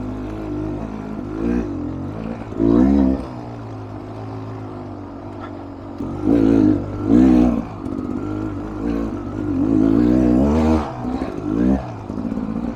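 A Beta Xtrainer dirt bike climbs a hill at slow speed, its engine loud and close, chugging with low torquey pulls and swelling in several throttle bursts.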